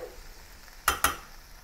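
Potatoes coated in curry paste cook in a pan for Bombay aloo, giving two quick, crisp clinks of a utensil against the pan over a faint, low background hiss.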